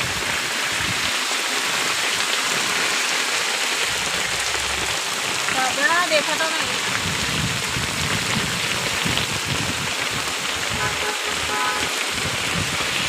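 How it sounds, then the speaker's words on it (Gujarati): Steady rain pours down at a busy village fair for Janmashtami Aatham in Piyaj, a broad continuous hiss filling the scene while people talk and call out over it. "વરસાદ ચાલુ થઈ ગયો"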